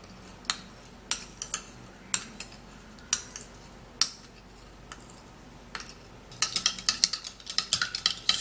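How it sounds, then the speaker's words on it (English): Fresh-breath mixture stirred by hand, with sharp clinks and scrapes of a utensil against a container at irregular intervals, quickening into a denser burst of clatter toward the end, close and fairly quiet with no talk. "So we're just going to be stirring it like that, and then when you use it, it's going to be foamy."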